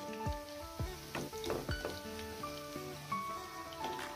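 Green pea vadas deep-fry in hot oil in a kadai, a steady crackling sizzle broken by sharp spattering pops and occasional clinks, close and moderately loud with no voices.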